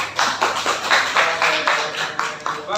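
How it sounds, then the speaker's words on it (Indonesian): An audience claps for a classroom group presentation, steady rhythmic applause for about three seconds from a small group in a room. "Oke, tepuk tangan untuk semuanya."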